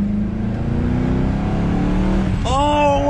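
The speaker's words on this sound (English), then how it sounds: "Oh, power brake start." A 900hp Ford GT500 revs hard during a power brake start, its engine note climbing loudly and steadily, then jumping sharply higher near the end as it launches, close and dominant.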